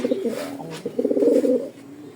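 Racing pigeons coo, a light-coloured club-bred hen among them, with soft, throaty rolling coos repeating close by and swelling in the middle of the stretch.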